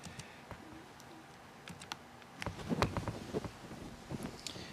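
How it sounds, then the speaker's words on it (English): Someone types on a computer keyboard, a scattered run of light clicks that grows denser and louder in the second half, over faint background hiss. "So let me just maybe type out an example here."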